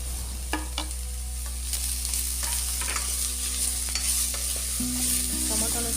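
Tomatoes fry and sizzle in a pan during rice cooking, with a constant hot crackle under repeated scraping and clinking stirs of a spoon, close by and with no talk.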